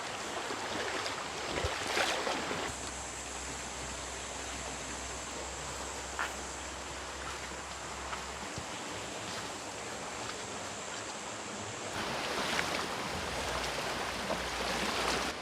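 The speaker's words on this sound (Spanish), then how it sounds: "estamos caminando por el medio del río que acá tiene poca profundidad, apenas nos tapa los tobillos" Feet wade through ankle-deep water in the middle of a clear river, splashing and sloshing steadily over a constant rush of flowing water, with occasional louder splashes close by.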